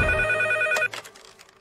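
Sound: telephone ringing

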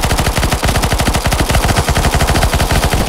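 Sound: gunfire in the video game CS:GO Zombie Escape

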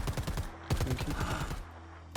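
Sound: gunshot in a video game

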